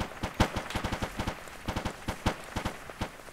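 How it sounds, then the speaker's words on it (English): Airsoft gunfire during an outdoor team operation: rapid, crackling strings of pops in quick bursts, fairly distant and moderately loud, with no voices. "Shots fired."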